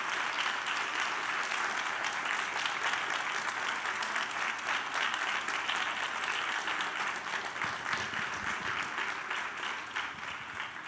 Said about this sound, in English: can we have a very big round of applause